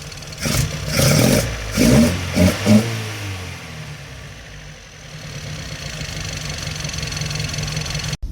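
A Datsun engine fitted with twin Weber 45 carburettors gives a few throttle blips at first, then settles into a steady, rough idle that runs close and loud to the end.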